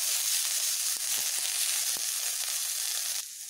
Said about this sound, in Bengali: এগুলোকে আমি একটু ভালোভাবে ভেজে নেব